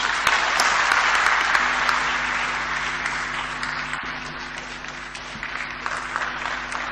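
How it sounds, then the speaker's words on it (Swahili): A large audience applauds at a business meeting with the presidents of Tanzania and South Africa, a dense sustained clapping that stays loud throughout with a faint low hum underneath. "Naomba tupige makofi mengi, kumpongeze na kumshukuru kwa makofi mengi Mheshimiwa Cyrill Ramaphosa"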